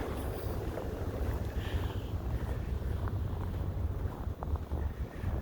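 Cold winter wind blowing outdoors in Saskatoon, Saskatchewan, Canada, buffeting the microphone with a steady low roar and gusty rumble, loud and constant throughout.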